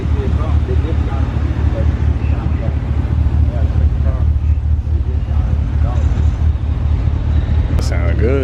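A car with a stock exhaust runs with a loud, constant low rumble close by, while voices talk over it throughout.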